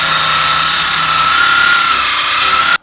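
A power saw, likely a circular saw set at a 45-degree bevel, cuts through wood for homemade car ramps; the loud, steady whine holds for nearly three seconds, then cuts off abruptly.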